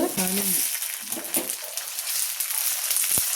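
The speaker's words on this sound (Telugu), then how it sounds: "ఉల్లిపాయ వేగిపోయాక ఒక స్పూను అల్లం వెల్లుల్లి పేస్ట్" Ginger garlic paste fries with browned onions in a pan for chicken fry piece biryani, a close, continuous hissing sizzle with occasional stirring scrapes and a brief tonal sound near the start.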